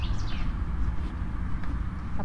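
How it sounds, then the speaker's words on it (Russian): Birds chirp and call in a rose garden, short faint tweets scattered over a steady low background hum and outdoor noise, with no voices. "А птицы как кричат, как поют."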